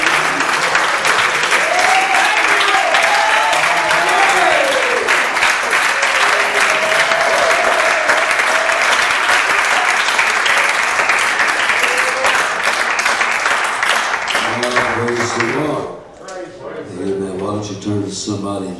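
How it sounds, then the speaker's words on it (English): A revival congregation claps hands together, loud, dense and sustained for about fifteen seconds with voices calling out over it, then the clapping drops away and a voice carries on with lighter sounds. "would you clap your hands to the Lord?"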